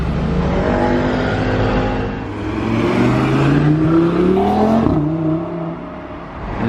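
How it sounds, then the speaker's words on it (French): A matte grey Mercedes G63 drives past on a Monaco street, its engine note rising and then dropping as it approaches and passes close by, loud and clear with no talking over it. "Ça faisait longtemps que j'avais pas filmé un G63"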